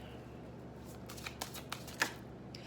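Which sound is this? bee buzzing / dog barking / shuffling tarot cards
shuffling tarot cards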